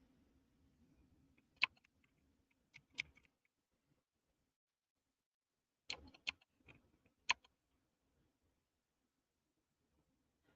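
Sparse keyboard typing, a few quiet isolated key clicks in two short bursts separated by silence, close and faint, with no talking.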